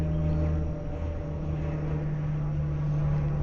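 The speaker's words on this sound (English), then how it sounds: "Constant airplane noise." A steady, low droning hum of a distant airplane persists throughout, fairly faint, with no voices.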